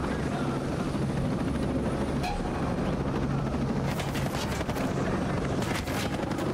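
Helicopter in the Ghost Recon Breakpoint video game, a steady loud rotor and engine drone running throughout, with a few brief bursts of game noise and a voice faintly under it.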